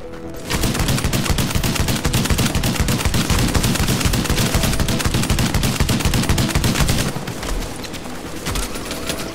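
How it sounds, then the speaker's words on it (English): Rapid, dense machine gun fire in a video game rattles continuously for most of the stretch, loud and close, easing slightly near the end with no talk over it. "You're gonna shoot me with your machine gun?"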